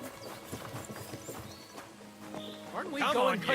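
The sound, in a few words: horses hauling a cart in the video game Kingdom Come: Deliverance II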